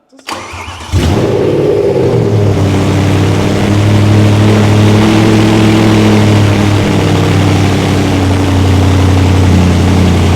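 A BMW M3 GTR race car's V8 engine catches on its first start after a brief crank, then settles into a loud, steady, rumbling idle that continues without a break.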